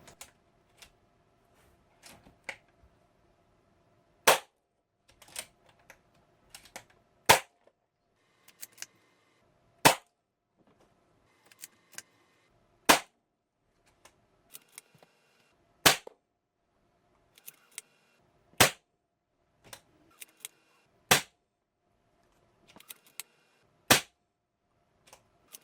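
A Diana Outlaw .25 calibre PCP air rifle fires pellets in a steady series of about nine sharp, loud cracks spaced a few seconds apart, with faint handling clicks between shots and no talk.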